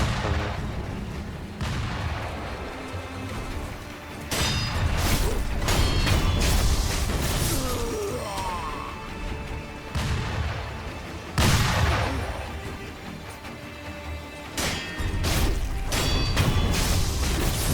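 Enemy gunfire in Sekiro: Shadows Die Twice, a sustained barrage of heavy booming shots and blasts recurring in dense bursts, loud and close, over a rumbling game backdrop.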